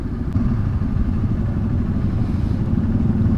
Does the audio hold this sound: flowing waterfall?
no